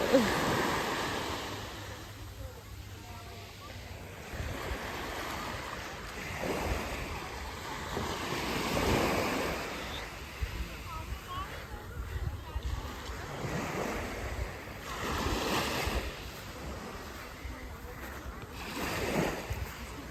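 Sea waves wash onto the shore at Alanya in November, a steady broad rush with swelling surges every few seconds, mixed with wind buffeting the microphone.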